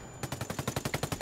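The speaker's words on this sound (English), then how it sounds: "Use your gun. Point and shoot." Rapid burst of about a dozen evenly spaced gunshots from a weapon in a Predator video game, loud and clear with no talk over it.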